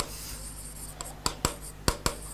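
Marker or chalk strokes on a board during a botany lesson, a handful of sharp, separate taps and scrapes spaced irregularly, close and fairly loud over a quiet room hiss with no talk.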